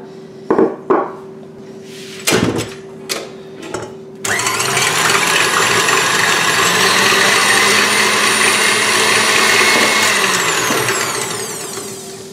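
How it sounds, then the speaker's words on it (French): Food processor whipping egg whites with sugar for a strawberry fraisier. A few knocks and clatters come first, then a loud, steady motor whir starts and runs unbroken to the end. "Je vais monter les blancs d'œufs en neige avec le sucre petit à petit."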